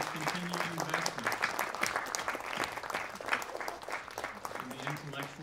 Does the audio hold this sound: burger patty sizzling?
no